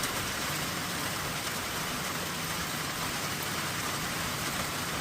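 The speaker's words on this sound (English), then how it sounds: "We have a little bit of rain here." Steady rain falls outdoors among trees, a continuous dense hiss of drops on surfaces, fairly close and unbroken throughout.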